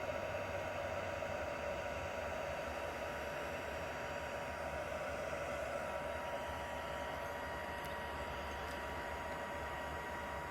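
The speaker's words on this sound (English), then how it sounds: "These heat guns get very, very hot." A heat gun blows hot air steadily to dry acrylic paint and gesso on fabric, giving a constant, close, loud whooshing roar that holds at the same level with no breaks and no voices.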